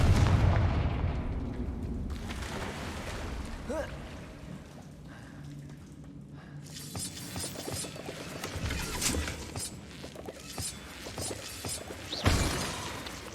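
Confringo fire spell blast in Hogwarts Legacy: a loud booming burst at the start that fades into rumbling game ambience, then crackling impacts and a sharp hit near the end.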